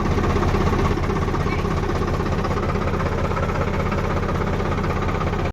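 A tractor engine idles on a village farm, left running to charge a low battery: a steady, close, dense low rumble with even vibration throughout, and no speech.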